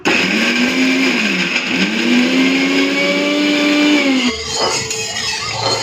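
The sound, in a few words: electric grinder grinding spice paste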